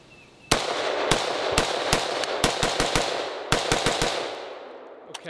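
A Dana Defense Mark 18 rifle in .300 Blackout fired without a suppressor: a string of sharp, loud, close gunshots in irregular bursts, some spaced and some rapid, with echo ringing between them.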